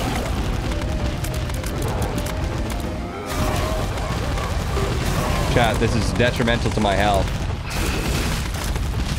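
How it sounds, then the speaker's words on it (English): Booming explosions and crashes from The Binding of Isaac gameplay rumble continuously under a streamer's talking, with electronic game effects layered through. "It's the fact that there's just random explosions happening next to me"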